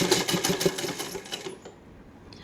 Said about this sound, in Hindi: तिरछी सिलाई लेते हुए इसको यहाँ तक ले आएंगे